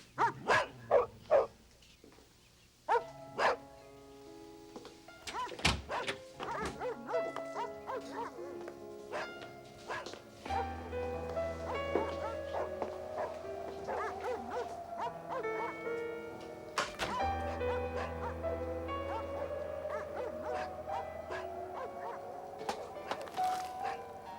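Several dogs in a room bark repeatedly in irregular bursts, loud and close, with some whimpering between barks and a low hum beneath, in a scene from a thriller film.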